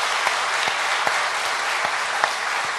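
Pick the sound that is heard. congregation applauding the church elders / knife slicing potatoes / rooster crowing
congregation applauding the church elders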